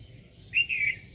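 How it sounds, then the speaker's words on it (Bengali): A single short bird chirp rings out over a quiet village morning, a brief clear call about half a second long above a faint low background hum. "শুনতে পাচ্ছেন যে চারপাশে পাখির কিচিরমিচির"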